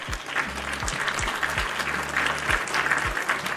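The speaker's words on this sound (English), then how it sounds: "Can we get a round of applause?" Applause during a casual live stream, a steady wash of clapping with no clear individual claps, heard over low background tones and without talk.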